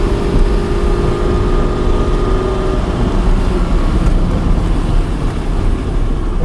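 A 1971 Porsche 911T driving on a test drive, its engine and road noise forming a loud, steady rumble that holds unbroken throughout, with no voices.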